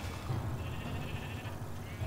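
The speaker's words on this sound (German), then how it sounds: "Oh, die Schafe sind alle am Essen." Sheep bleat in a Minecraft game world, soft repeated calls over a steady low background hum.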